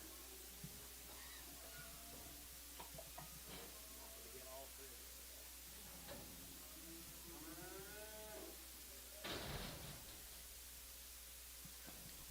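Cattle low and moo at a calf and stocker livestock auction, a few drawn-out calls rising over a steady hum of hall noise, with an auctioneer's voice and crowd talk running underneath.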